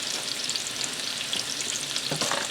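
Shallots sauté in oil in a hot pan, a steady bright sizzle holding throughout with a brief stir or shift of the pan near the end, no voices.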